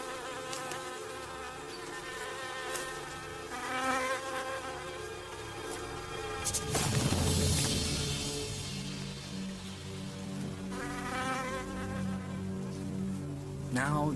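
A bee buzzes close by in a continuous droning hum that rises and falls in pitch, with a brief louder burst midway, no talking.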